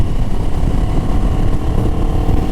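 A 2024 Moto Morini Calibro Bagger motorcycle engine runs at a steady, loud, buzzing drone close by while riding, with no clear rise or fall in revs and no voices.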